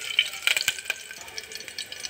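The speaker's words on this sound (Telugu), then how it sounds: "ఇప్పుడు నెయ్యి వేడైంది, పోపు దినుసులు వేస్తున్నాను" Whole tempering spices hit hot ghee at the start of a mutton paya soup: close, crisp crackling and popping with quick sputters over a continuous hiss.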